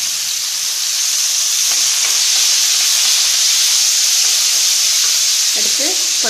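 Tomatoes, onion and green chillies sautéing in a hot pan give a loud, steady sizzle and hiss that runs unbroken throughout, with faint stirring clinks near the end.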